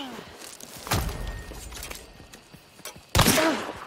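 Gunfire in the video game Hunt: Showdown, with a loud shot near the start and another sharp, loud blast near the end over a murky background of game ambience.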